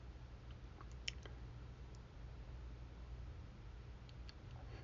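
A computer mouse gives a faint single click near the middle, with a few softer ticks, over a low steady room hum.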